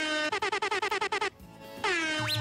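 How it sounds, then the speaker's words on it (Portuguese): A TV show air horn blares in a rapid burst of about ten short, loud honks, pauses briefly, then sounds one longer sustained blast that ends in a wobbling, warbling tone. "solta a buzina pra gente e vamos lá!"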